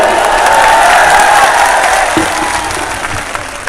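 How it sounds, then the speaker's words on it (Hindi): Crowd at a political rally in Bhopal applauding a speech, sustained dense clapping and crowd noise, loud and steady, easing slightly toward the end. "ताली वाली मत बजाओ"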